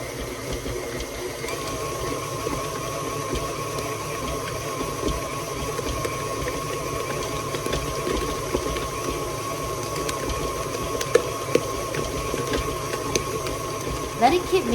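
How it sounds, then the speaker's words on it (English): Stand mixer running steadily at medium speed, kneading a wet purple Japanese milk bread dough of only four ingredients with no added sugar; a constant motor whir with a low churning texture throughout, soft bumps of dough near the end. "Let it keep mixing until it turns into a smooth dough that no longer sticks to the sides of the bowl"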